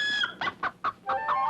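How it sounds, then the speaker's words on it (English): A rooster crows in a short run of clucking, rising calls, loud and close, with no voices over it. "he never missed a morning crow"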